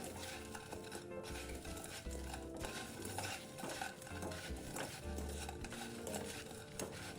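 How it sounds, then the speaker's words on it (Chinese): A wok of cereal is stir-fried quickly in thick, nearly reduced sugar syrup for a taro dish, giving steady scraping, clattering spatula strokes with a low sizzle throughout and no talking. "麦片下锅后，快速翻匀即可关火。"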